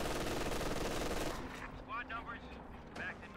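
Rapid, loud MG42 machine gun fire in a competitive video game match, a dense burst for over a second that cuts off, followed by quieter game sounds and a brief voice.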